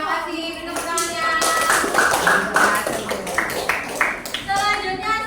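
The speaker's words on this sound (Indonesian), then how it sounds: "Tepuk tangannya." Classroom applause for a student in an elementary school class, a short burst of uneven hand claps and taps from pupils, fairly close, with voices and classroom chatter mixed in.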